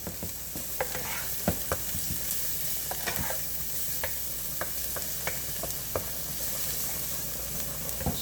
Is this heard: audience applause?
no